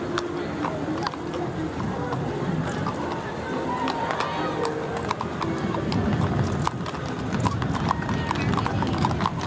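Horses' hooves clip-clop on a Main Street at a Christmas celebration, amid street noise and a murmuring crowd, with people chatting nearby.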